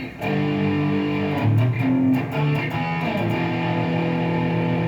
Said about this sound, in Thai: ผสมกับรีเวิร์บนิดๆสองเสียง ผสมคอรัสเข้าไป นิดนึง กับโอเวอร์ไดเหมือนเดิมนะครับ